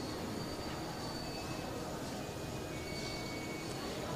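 A Recife metro train runs with a steady broadband rumble and faint high squeal tones, continuous and fairly loud, with no voices.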